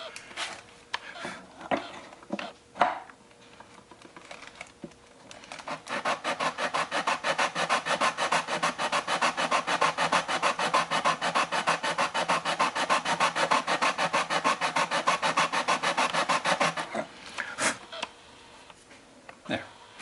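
A viola is hand-sanded during acoustic repair, a close, rhythmic rasping of abrasive on wood that starts with a few short strokes, then runs in fast, even back-and-forth strokes for about ten seconds before tapering off.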